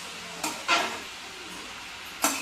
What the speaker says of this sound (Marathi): हां आता पूर्ण असा ढवळून घ्यायचा आहे